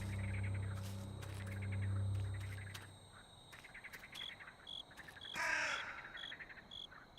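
Crows caw in a dark, spooky forest in a horror walking game, with a low rumbling drone at the start, then scattered harsh calls, insect-like chirps and one louder burst near the middle.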